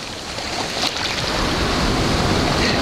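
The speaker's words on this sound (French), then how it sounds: "Je vous laisse avec la mer et le bruit des vagues" Ocean waves wash and roar continuously nearby, a broad rushing surf with a faint wind rumble underneath.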